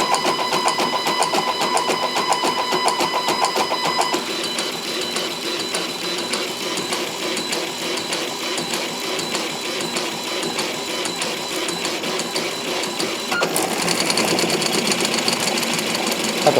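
An Orcinus 3D printer shakes hard while it runs a maximum acceleration test, giving a steady, loud mechanical buzz with whining motor tones. A brief shift in the noise comes near the end.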